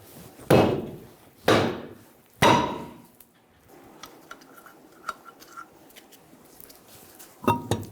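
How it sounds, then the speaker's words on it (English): A hammer strikes the back of a stuck wheel rim on a 2000-2007 Ford Focus: three loud, ringing metallic blows about a second apart, then quieter clatter and a fourth hit near the end. "we're going to hit the rim on the back."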